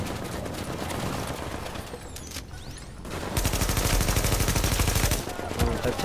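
A turret in Tom Clancy's The Division fires sustained rapid bursts, a dense loud rattle that briefly dips and then returns, with a voice talking faintly underneath.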